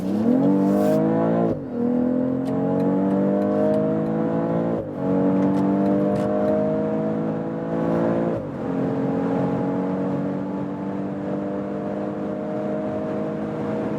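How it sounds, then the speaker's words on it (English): A BMW X3 M40i in sport mode pulls hard through repeated gear changes, its engine note climbing in steady harmonic sweeps, dropping briefly at each shift, then rising again, loud and close throughout with no talking. "That's 200 kilometers an hour. Wow, nice acceleration."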